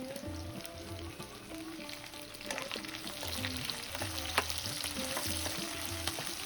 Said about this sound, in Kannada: ಒಂದು 3-4 ನಿಮಿಷ ಅದನ್ನು ಆಡಿಸ್ತಾ ಇರಬೇಕು